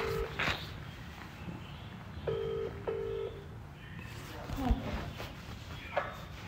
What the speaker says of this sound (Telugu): ఎవరికి ఫోన్ చేస్తున్నావు బుజ్జి?